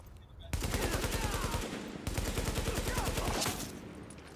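Police M4 rifle in the video game The Division fires two long, rapid automatic bursts, loud and close with a brief pause between them.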